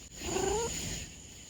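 A pet cat named Kiwi gives a short, close, throaty vocal trill lasting under a second, rising in pitch, with nobody talking.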